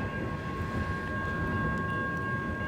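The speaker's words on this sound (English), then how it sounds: "At least I caught the locomotives in a decent angle." Locomotives leading an LSRC mixed freight train past a rail crossing, heard as a low steady rumble with a faint sustained tone on top, fairly distant and even throughout.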